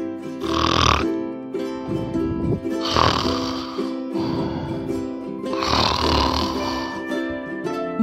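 A cartoon rabbit snores in deep sleep, three long rasping snore inhales with breathy exhales between them, loud and close with no other sounds.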